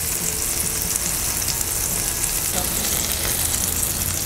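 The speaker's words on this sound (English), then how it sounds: "we're going to get this bun down here for a little quick toast" Burger bun toasting on a Blackstone griddle, a steady close sizzle and crackle of frying with no talk.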